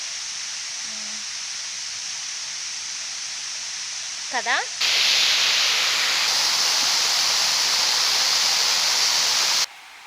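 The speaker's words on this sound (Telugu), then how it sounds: "ఆ వాటర్ సౌండ్ వినండి" Bheemuni Padam waterfall in Warangal district, Telangana roars as a loud, steady rush of falling water, jumping in volume halfway through. Before that a brief voice and a few faint chirps sit over a softer hiss.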